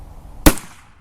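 A single sharp, loud report from a Carcano rifle firing a .264-diameter bullet, a sudden crack that decays quickly, with no talking.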